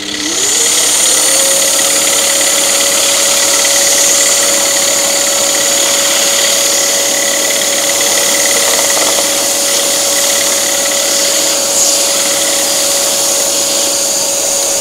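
A saw cuts through wood for a carved weave-effect coaster, running as a loud, steady motor drone with a constant hum that holds for the whole stretch, close by and with no talk over it.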